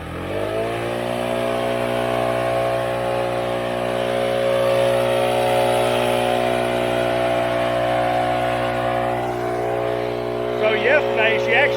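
A Stihl BR800CE backpack leaf blower roars at full power, a loud sustained whine with a strong steady tone that holds for several seconds, then eases slightly as a voice speaks at the end.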